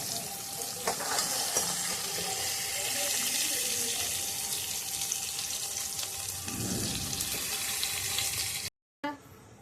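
Spices for a chicken masala fry in a pan with a steady hissing sizzle, interrupted by scattered scrapes and stirs, and a brief cut to silence near the end.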